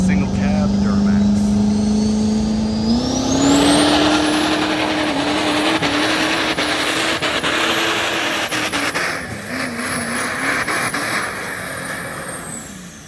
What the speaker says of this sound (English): we have Moffitt in the single cab Duramax